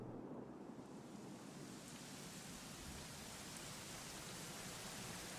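Steady rain hisses evenly throughout in the video game Dragon Quest XI, a dense continuous patter with low rumbling underneath, fairly quiet and without voices.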